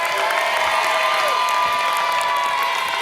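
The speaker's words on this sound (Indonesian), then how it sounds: "Tepuk tanda untuk mereka semuanya." Applause and crowd noise for contestants on an Indonesian TV game show, a steady broadband wash of clapping with tonal music or sound effects running through it.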